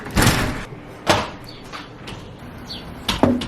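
Indoor doors leading from a kitchen out to a backyard are handled, giving several sharp knocks and thuds spaced about a second apart with a few lighter clicks between, close and fairly loud.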